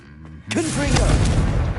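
A Confringo blasting spell explodes in Hogwarts Legacy: a sudden loud blast breaks a brief quiet and rolls into a sustained, booming rumble, with a voice heard faintly around it.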